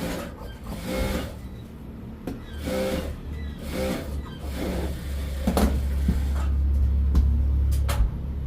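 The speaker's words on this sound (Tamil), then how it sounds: "ஸோ ஒரு ப்ளவுஸை தைச்சி காட்டுவோம்" A sewing machine stitches a blouse, its motor whirring in repeated runs of rapid mechanical chatter that start and stop, with a steady low hum and a few clicks between bursts, close and fairly loud.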